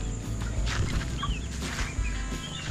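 Chickens cluck and murmur close by while they are fed on a farm, a steady flock chatter that carries on without a pause and with no talking.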